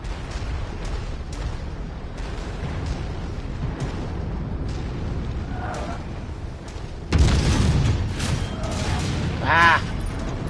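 AC-10 autocannon from MechWarrior 5 fires a heavy booming burst partway through, loud against a steady mechanical rumble of battle, with a smaller burst just after.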